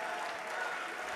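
Dense audience applause at a political meeting, a steady close wash of many hands clapping together with no pause, heard alone.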